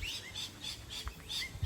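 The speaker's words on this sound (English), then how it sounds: "Plenty of bird life, as you can hear." Birds call repeatedly in short chirps and tweets at a creek campground at Lotus Creek, fairly faint and spaced out, with no other sounds.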